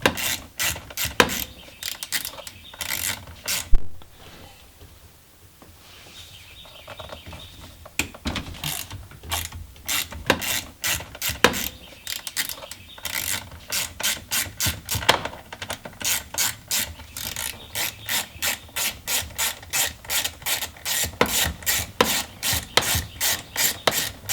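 A ratchet clicks rapidly and steadily while unscrewing steering wheel bolts in a 1998 Jeep XJ, close and crisp, in long runs of fast clicks broken by a short pause, with no talking.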